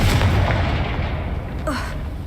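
A Confringo spell explosion in the Hogwarts Legacy video game: a loud, sustained booming blast rumbles throughout, with a brief rising whoosh near the end.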